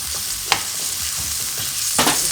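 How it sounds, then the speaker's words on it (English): Potatoes sizzle in hot olive oil in a cast iron skillet, a steady broadband fry with a couple of sharp spatters and stirring scrapes, close and fairly loud, no voices. "We're going to put them in and let them cook for a while."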